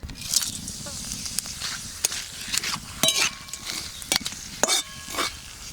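Bay leaf, cardamom, clove, black pepper and cumin crackle and sizzle in hot mustard oil, with sharp pops and spits scattered over a steady frying hiss and a few light stirring clinks, close by.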